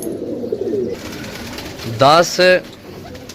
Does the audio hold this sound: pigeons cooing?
yes